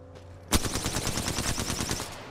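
Rapid automatic gunfire in the battle royale shooter Apex Legends during a solo match: a sharp opening shot, then a steady stream of close, loud rounds for about two seconds.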